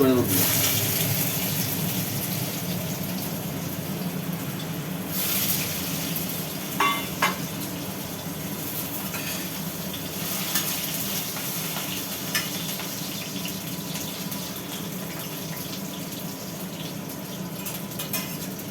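Potatoes frying in hot oil in a pan for a potato and pointed gourd curry, with a kitchen chimney fan running: a continuous broad sizzle with a few scraping stirs, and a voice speaking over it at times.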